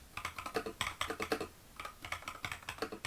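Fast typing on an Epomaker mechanical keyboard, a close, crisp run of clacky keystrokes in quick bursts with a short pause midway, heard alone.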